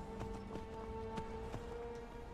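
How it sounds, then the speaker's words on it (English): Horse hooves clip-clop in the Skyrim video game, a quiet, regular run of soft knocks spaced through the clip over a steady low game hum. "I thought that horse was walking itself for about 2 seconds"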